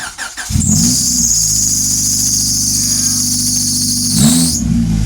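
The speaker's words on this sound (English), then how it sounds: "slam the key in the ignition and start it" An Acura TL's engine cranks and catches, then idles loudly and steadily up close before revving briefly near the end.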